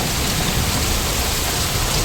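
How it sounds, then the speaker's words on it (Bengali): Heavy rain pours down in a dense, continuous roar, loud and unbroken for the short stretch. "দেখো কত জোরে বৃষ্টি হচ্ছে"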